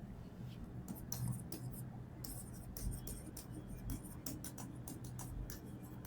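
Pen or marker strokes during a geometry lesson on the geometric mean theorem, soft scratchy bursts of writing in irregular spurts against faint room noise.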